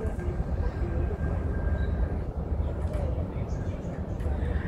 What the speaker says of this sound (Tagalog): Ay, may train na naman doon, oh.